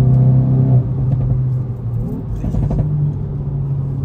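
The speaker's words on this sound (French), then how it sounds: "C'est une petite voiture de rallye." A small Hyundai i20 N rally-style car's 204-horsepower engine hums steadily nearby, its pitch shifting as it revs and changes gear on a manual gearbox, with faint rattles midway.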